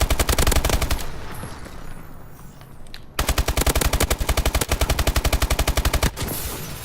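Rapid automatic gunfire from Call of Duty, long loud bursts of rhythmic shots with a brief gap between volleys, then firing resumes, no talk.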